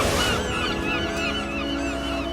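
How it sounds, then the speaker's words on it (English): Geese honk overhead in a steady, close chorus of repeated calls over a constant low rumble, heard while out on a boat among orca and herring. "There's birds right overhead."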